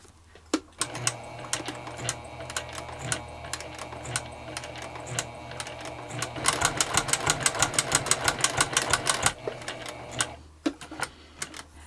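A very fast machine punching stitching holes in leather for a notebook cover, starting with scattered clicks, then a hard, rapid run of evenly spaced punches before it slows and stops, all close and loud.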